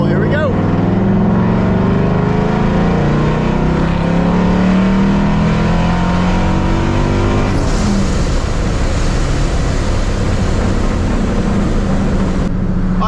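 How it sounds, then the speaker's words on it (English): A boosted Ford Mustang Mach 1 revs through a third-gear pull, engine pitch climbing steadily for several seconds, then a sharp change as the throttle lifts and the roar drops. It is loud, close and continuous, with no clear voices. "we'll do a little 3rd gear pull"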